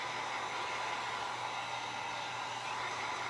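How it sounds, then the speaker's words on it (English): A heat gun dries hot glue on a cross decoration, giving a steady, loud, unbroken airy whoosh up close with no pauses and no talking. "The heat gun, you need to just keep it moving"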